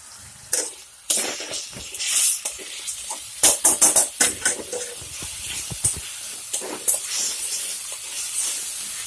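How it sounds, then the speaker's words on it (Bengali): Onion paste frying until brown, a hissing sizzle punctuated by bursts of sputtering and scraping stirs, loud and close, then settling into a steadier fry. "আগে থেকে পেঁয়াজটাকে পেস্ট করে রেখেছিলাম, সেটা আমি ভালো করে ভেজে নিচ্ছি।"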